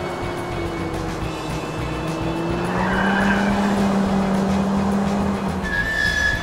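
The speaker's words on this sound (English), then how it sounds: "Now it's time for the giant haul truck." A giant toy haul truck drives toward a set of bowling pins, giving a steady, fairly loud motor drone with a rising whine partway through and no speech.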